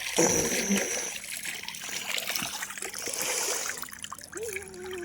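Cold water trickling and splashing outdoors near a field, a steady close liquid wash with a few brief splashes and no voices.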